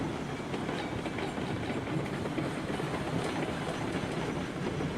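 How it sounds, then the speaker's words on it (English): A narrow gauge American steam train in a railroad video game rolls along at speed, a dense continuous rumble with rhythmic clickety-clack of wheels over the rails, close and steady without pause. "It's a nice feel for a narrow gauge American railroad."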